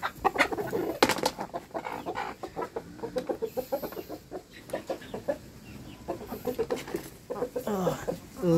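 Rhode Island Red production chickens cluck and chatter at feeding time, with a busy stream of short calls and squawks close by, while someone talks intermittently over them.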